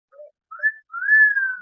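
A person whistles a short, casual tune in a village setting: three brief rising notes, the last held longest and sliding slightly, close and clear with no talk.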